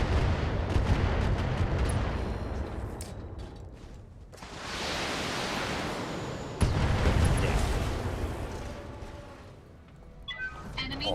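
Volley of LRM-10 missiles from a mech fired at a Locust in a video game, a dense sustained roar of launches and booming impacts that fades slightly mid-clip before a sharp new blast and a continued rumble.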